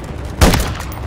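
Gunfire in Call of Duty: Modern Warfare III, a single loud close shot or short burst with a boom that decays quickly.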